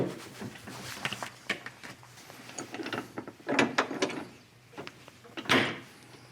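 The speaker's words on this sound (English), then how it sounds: "And we can close the hood." A car hood fitted with a Kentrol hood latch being lowered and closed, with a series of close metallic clicks, rattles and latch clunks spread over several seconds, the sharpest impact near the end.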